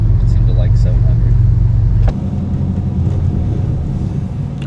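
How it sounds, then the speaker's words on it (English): A Toyota MR2 with a naturally aspirated Honda K24 engine swap idles around 700 rpm with a steady, low rumble close by, the throb settling slightly partway through. "now it's idling like it's a freaking normal car"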